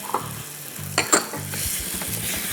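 Cubed onions hit a hot pan and fry, a steady close sizzle with a couple of sharp utensil scrapes and clinks partway through, a low pulsing hum beneath and no talking.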